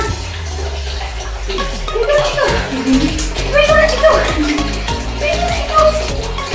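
A dog gets a bath, with water splashing and running steadily in a tub while voices talk over it.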